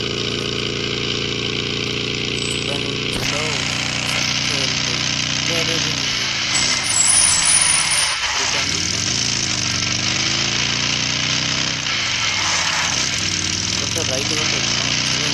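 A vehicle engine in PUBG drones steadily throughout, a loud rough hum with shifting pitch as it drives, with someone talking over it.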